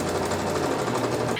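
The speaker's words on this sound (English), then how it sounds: "I'm going to throw on another lock stitch" Sewing machine running a lock stitch along a seam joining two pieces of heavy fabric for a cape, a fast steady whirring hum, close and continuous, with no talking.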